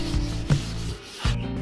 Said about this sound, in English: gave it a final sanding to prepare for the epoxy